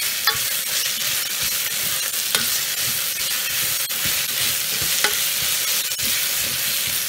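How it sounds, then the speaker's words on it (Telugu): Mint leaves go into onions and spices already frying in a pan for bagara rice, giving a steady, close sizzle with occasional stirring scrapes and clicks, loud and continuous with no talking. "ఇదంతా ఫ్రై అయిపోయిన తర్వాత ఇప్పుడు ఇందులో పుదీనా ఆకులు యాడ్ చేస్తున్నాను."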